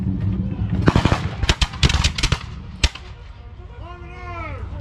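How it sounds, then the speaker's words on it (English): Small 3-pounder guns firing at an outdoor battle reenactment, a series of sharp loud bangs in quick irregular succession over crowd murmur, followed by a brief quieter rumbling tail. "The guns they are firing are small 3-pounder"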